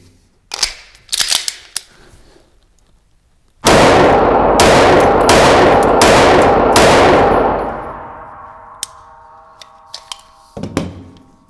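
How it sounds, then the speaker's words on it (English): Staccato XC compensated pistol fired in a rapid string of about five loud, close shots with a broken cadence, preceded and followed by lighter metallic clinks and handling noises. "Broken shot cadence, just due to not wanting to go as fast as the gun wants to go."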